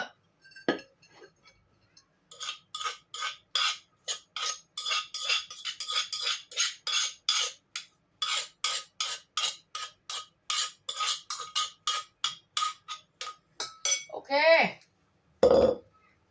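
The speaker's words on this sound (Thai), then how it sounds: "ทำใส่จานแล้วก็จะกินละเด้อ" Repeated light clinks of utensils against dishes as food is spooned onto plates at a Thai home meal, steady rhythmic tapping for several seconds, then a brief voice and a final louder knock.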